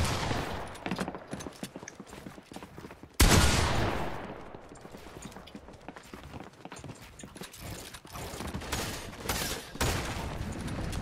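A sharp, loud gunshot cracks out in Fortnite amid a busy stretch of scattered firing and movement sounds, the single heavy blast standing out before the noise settles back to lighter pops.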